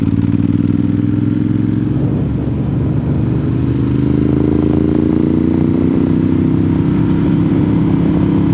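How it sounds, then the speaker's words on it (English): A motorcycle engine rumbles loud and close while riding, dipping briefly and then rising in pitch as it speeds up, continuous throughout. "It is like a perfect day for a motorcycle ride today."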